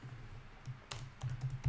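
Keystrokes on a computer keyboard come as a few soft, irregular clicks over a low steady hum, close and quiet, with no voices.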